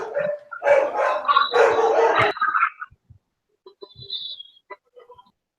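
A dog barks and moans close by in a first burst of loud, continuous vocalizing, followed by quieter, scattered whimpers and yips.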